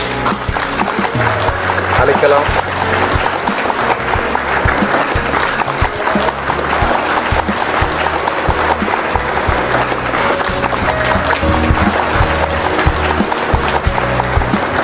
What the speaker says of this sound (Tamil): உங்கள் பலத்த கரகோஷத்தை